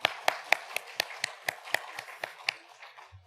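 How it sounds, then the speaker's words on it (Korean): A small church congregation at a Sunday service claps in a slow, regular rhythm of about a dozen distinct hand claps, fairly quiet and roomy, fading toward the end, with no talking over it. "여러분 박수 한번 해주시죠."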